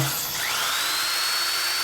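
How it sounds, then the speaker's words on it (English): A high, steady whine of a center drill spinning up and cutting holes into metal, loud and continuous with a rising tone. "I'm going to center drill both holes now"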